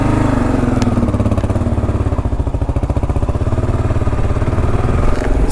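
Kawasaki KLR 650 motorcycle engine humming steadily while riding on a windy day, a loud, close, even rumble with rhythmic mechanical pulsing and wind buffeting over it, no talking.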